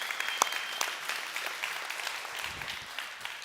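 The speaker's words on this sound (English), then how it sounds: "So a round of applause for Ryan." An audience claps for Ryan at an evening recovery gathering, a steady wash of applause that holds from start to finish, fairly distant and even, with no voices over it.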